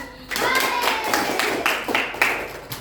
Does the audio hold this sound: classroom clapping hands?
yes